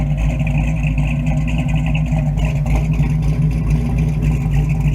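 A 1971 Chevy C10 truck's carbureted engine revs steadily up close, a loud, deep, continuous rumble holding near one pitch with a slight swell partway through.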